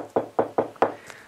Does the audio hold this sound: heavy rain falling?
no